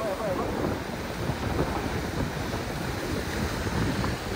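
Sea waves wash ashore at Rock Garden in Malvan at sunset, a continuous broadband rush of surf mixed with wind buffeting the microphone, steady and fairly loud with no clear talk.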